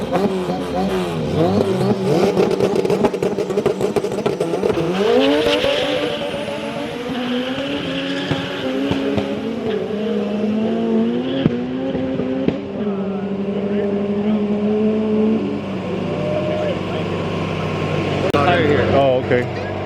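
Front-wheel-drive Honda cars in a grudge race, engines revving and climbing through gears, loud and continuous, with tires squealing briefly and people talking over the engine noise.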